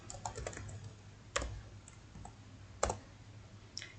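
Java code being typed on a computer keyboard: a steady run of soft, close key clicks with a few sharper, louder strokes, and no voices.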